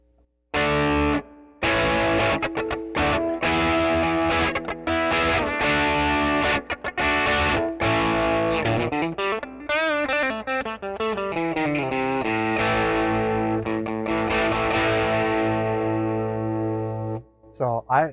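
An Epiphone LP Junior electric guitar with P90 pickups, volume knob turned fully up, rings out with loud, sustained distorted chords and riffs, strummed and held notes filling the passage before cutting off near the end.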